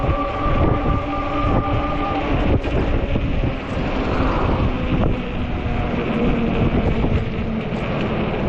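Strong 30+ mph wind gusts buffeting the microphone during a fat-tire e-bike ride in 33°F weather, a loud, continuous roaring rumble throughout.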